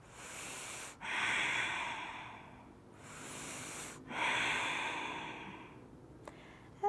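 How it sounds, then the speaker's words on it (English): Slow, deep breaths during a yoga bridge pose, two long airy exhales and inhales in a steady rhythm, close and soft with no talking. "Breathing and engaging all those breathing muscles with the exhale."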